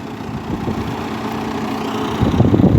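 A tractor engine runs steadily at a low, throaty idle during spring wheat top-dressing with a seeder and trailer, the rumble holding constant and then swelling louder near the end.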